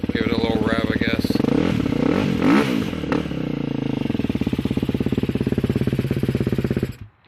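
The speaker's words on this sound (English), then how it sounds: "You kind of give it a little rev, I guess." A 2012 KTM SXF250 dirt bike with a freshly done top end and valves runs loud and close, its engine revving up with rising, rasping pulses before settling into a steady idle and cutting off near the end.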